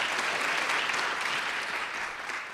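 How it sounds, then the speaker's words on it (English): Audience clapping for Pamela at a talk on women re-entering the workforce, a dense, steady round of applause from a moderately distant crowd. "let's just give Pamela a big round of applause"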